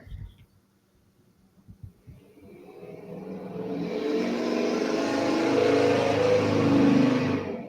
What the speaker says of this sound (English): Somebody start cutting grass at this time of night.